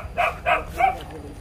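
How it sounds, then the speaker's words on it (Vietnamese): A dog barks three times in quick succession at a house in rural Vietnam, fairly close and loud, with faint background noise and no talk. "Có chó đấy"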